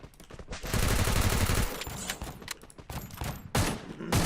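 Gunfire in the Free Fire Max mobile game: a dense, loud volley of rapid shots that roars for about a second, then breaks into scattered bursts and single cracks.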